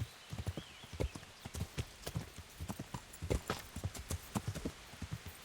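Horse hooves clip-clop in the video game Kingdom Come: Deliverance, a steady, even rhythm of fairly soft hoof strikes continuing throughout with no talk.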